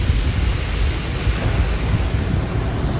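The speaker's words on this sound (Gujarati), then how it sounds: "ફૂલ વરસાદ ચાલુ થઈ ગયો અત્યારે દ્વારકામાં" Heavy rain pours down in Dwarka with deep rumbling thunder underneath, a loud, dense, unbroken roar of downpour and low growling that fills the scene throughout.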